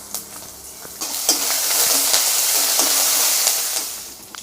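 Chana dal and urad dal crackle and sizzle in hot oil in a pan, a loud, close, continuous frying hiss broken by sharp spatters and stirring clicks.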